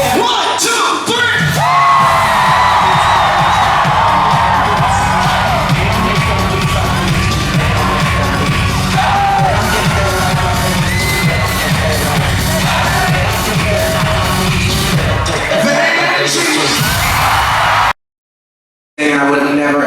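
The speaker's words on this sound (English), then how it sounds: "I'm gonna hear you scream at the top of your lungs" A large concert crowd at the London Palladium screams and cheers loudly and continuously for many seconds, with whoops and yells filling the hall before an abrupt cut to silence.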